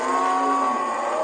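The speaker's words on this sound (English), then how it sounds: "At the end of the day, the cattle are driven slowly home." Cattle in an African herding village moo as they are driven slowly home at day's end, one long steady low bellow close by, loud and alone.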